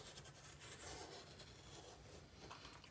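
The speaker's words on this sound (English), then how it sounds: "I'm going to work with the green blade and cut two" A blade traced around an oval template cuts through cardstock in a faint, continuous scratchy scrape that lasts the whole stretch and sounds close to the listener, with no talking.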